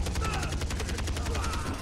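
Rapid video game gunfire sprayed from the hip in a console shooter, a steady fast burst of repeated shots running through the whole moment, loud and close.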